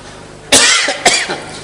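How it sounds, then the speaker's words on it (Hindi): Two harsh coughs from one person, loud and close, the second shorter and following about half a second after the first. "ये तेरी खांसी लगी है।"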